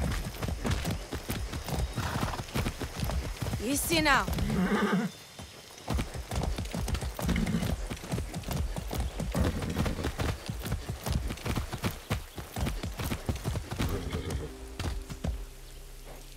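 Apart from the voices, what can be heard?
horse galloping and neighing in video game Far Cry 6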